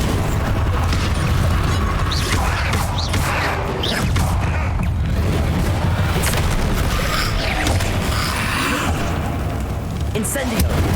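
Confringo blasting spell cast during combat in the PC game Hogwarts Legacy, heavy booms and explosive bursts stacked into dense, continuous battle noise, with voices mixed in.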